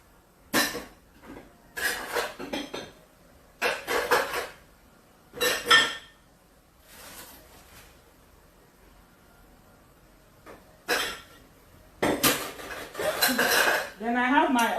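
Blended rodo pepper is poured into a cooking pot with clattering metal and utensil knocks in irregular bursts, close and moderately loud, with quiet gaps between and no talk.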